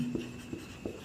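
Pen or pencil writing a sentence during an English grammar lesson, with a few soft scratchy strokes in quick succession, heard close and quiet with no talking.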